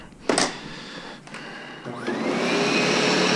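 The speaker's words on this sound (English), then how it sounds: "as I'm using the vacuum, it almost wants to be self-propelled" A vacuum cleaner runs over carpet after its brush has been cleared, starting with a few knocks and clicks, then its motor spins up into a steady, loud, close whine that holds to the end.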